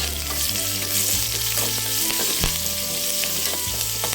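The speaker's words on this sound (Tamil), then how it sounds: "நல்லா வதக்கிட்டே இருந்தேன்" Onion and seasonings sautéed with asafoetida powder in oil in a pan, a continuous loud sizzle with stirring scrapes and an occasional clink, no voices.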